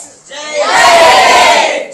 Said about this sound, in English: you have students cheering for the ISRO team on this historic day for the Indian Space Agency and the nation as well